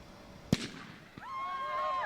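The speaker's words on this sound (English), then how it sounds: "as our intermediate girls line up for the start of their race. You can see the marshals clearing to either side as the athletes wait for the gun, poised." A single sharp crack from a starting gun opens an intermediate girls' cross country race at the ESAA Cross Country Cup Final, followed by a brief thump and then rising crowd noise and whistling in the open air.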